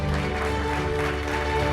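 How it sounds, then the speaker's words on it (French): Crowd applause at an award ceremony for sponsors, a steady dense wash of clapping throughout with a low hum underneath. "Atlanta Sanad, merci de les applaudir."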